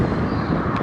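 Wind gusts buffet the microphone outdoors beside a canal at Helix Park, a loud, continuous low rumble that is close and steady for a brief moment.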